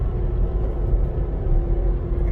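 A car engine hums in a steady, low drone as the driver shifts down a gear; no one speaks.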